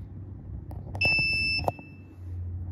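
A multimeter set to measure resistance gives a short, clear electronic continuity beep when its two probe tips are touched together, a steady tone lasting about half a second against quiet room noise.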